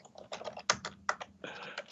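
Typing on a computer keyboard, a rapid uneven run of close clicks and clacks with a few harder keystrokes, heard alone without talk.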